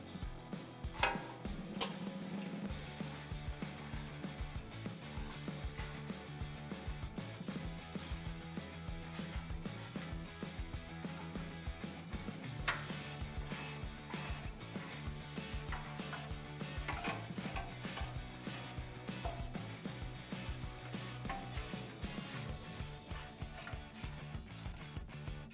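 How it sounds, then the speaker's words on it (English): A ratchet with a 16 mm deep socket on a 3-inch extension tightens front bumper bolts on a Jeep Wrangler JL, giving a continuous series of quick, faint clicking strokes. "we can tighten it down with a 16 millimeter deep socket"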